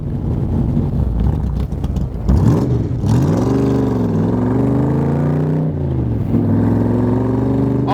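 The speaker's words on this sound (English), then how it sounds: "Listen to that thing sing. I love the sound of this car." A 1965 Shelby Cobra replica's engine revs up and down loudly and close by, its pitch climbing and falling repeatedly with wind noise in the background.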